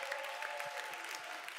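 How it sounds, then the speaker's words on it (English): Audience applause at a youth-led event, a soft, steady patter of many hands heard at a distance, faint and continuous throughout. "Please join us in giving us them a round of applause."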